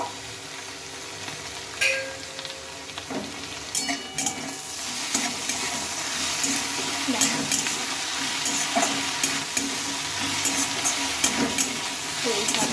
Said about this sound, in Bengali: এবার ভালোভাবে একটু একটু নেড়ে চেড়ে নিতে হবে